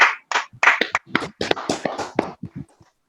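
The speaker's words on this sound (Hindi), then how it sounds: "प्लीज एक खुद के लिए एक जोरदार ताली दे दीजिए।" Scattered, uneven hand claps from a small offline audience at a Sunday motivational session, each clap a separate sharp burst, moderately quiet and thinning out toward the end.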